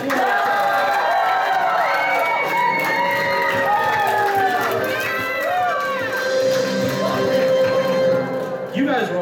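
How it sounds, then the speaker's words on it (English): A convention audience at an anime-themed game show panel cheering, whooping and shouting loudly, with excited voices rising over one another throughout. "let's give a round of applause."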